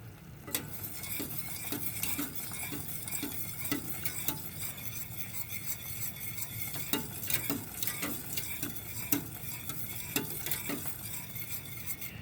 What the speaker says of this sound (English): I want to bring that to a boil.